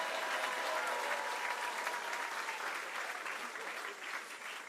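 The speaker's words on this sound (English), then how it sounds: "longer round of applause for a second" Sustained applause from an audience at a band competition, a dense even wash of clapping that runs steadily from start to end and fades slightly near the close.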